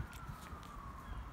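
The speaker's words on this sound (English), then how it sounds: "I hear sirens" A siren wails faintly in the distance as a steady tone under low outdoor rumble, heard while a fire spreads nearby, with no talk during the moment.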